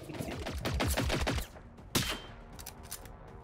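Automatic machine-gun fire from mechanical machine cannons in the video game Generation Zero: a rapid, loud sustained burst for about a second and a half, followed by one sharp shot and a few scattered fainter reports.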